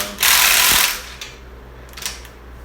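An engine bolt coated with thread sealer being run down with a ratcheting tool, a loud close burst of rasping clicks followed by a few fainter ticks and a quiet pause.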